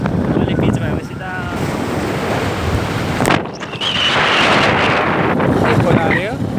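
The Lodhiya river stream rushes and splashes continuously, half buried under heavy wind buffeting against the microphone, with voices talking over it.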